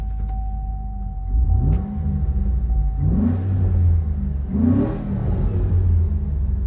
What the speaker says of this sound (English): let me just start it up and give it a rev real quick for you